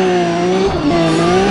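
A race car launches off the line in a Need for Speed ProStreet drag race at Chicago Airfield, its engine loud and close, revving with a rising whine that dips briefly at a gear change.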